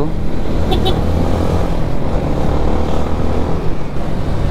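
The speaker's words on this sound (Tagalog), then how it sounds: "Ano kaya motor na ito ni sir? Dalawa tambutso, left and right" A motorcycle with dual left and right exhausts rides along a weekend road, its engine a steady loud rumble mixed with wind and traffic noise, with no clear pass-by peak.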